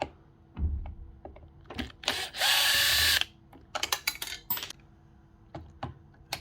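A power drill unscrews screws from a broken power tool being repaired, with Torx screws in the motor section and PH2 screws elsewhere. There is one sustained whirring burst of about a second amid scattered clicks and clatter of parts.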